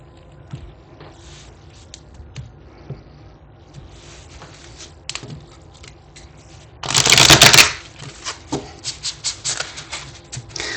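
A deck of cards being shuffled, a loud riffle burst followed by a run of rhythmic, crisp card taps, close by with no talking.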